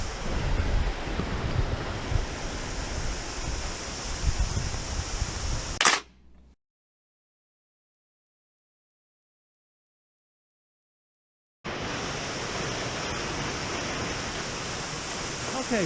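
Steady broadband rush of a waterfall in a wooded hollow, loud and close, with wind buffeting the microphone; the roar cuts out completely for several seconds midway, then returns at the same level.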